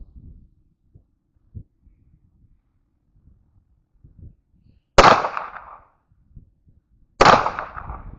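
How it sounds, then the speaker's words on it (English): Two sharp handgun shots ring out at an outdoor shooting range, spaced about two seconds apart, each a loud crack with a short decaying echo, after several seconds of near silence with faint handling noises. "We'll take these two shots real quick."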